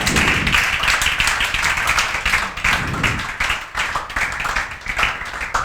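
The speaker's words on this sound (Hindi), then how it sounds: "सभी लोग तालियां बजाएंगे।" A classroom group claps continuously during a lecture, dense overlapping hand claps with uneven swells, close and fairly loud, without clear speech.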